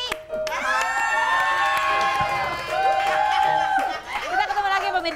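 A studio audience at a television talk show claps and cheers in a continuous roar with shouting voices, loud and close throughout.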